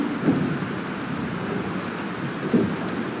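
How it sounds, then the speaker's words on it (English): In the Life Is Strange video game, a thunderstorm pours steady rain, with two low thunder rumbles rolling through near the start and end over the constant hiss of rainfall. "This storm's real."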